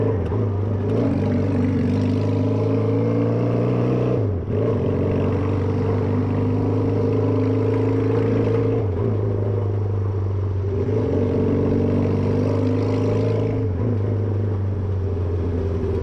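A Benelli PE250 bobber motorcycle's engine runs close and loud with a deep, steady rumble, rising in several revving surges with brief dips between them.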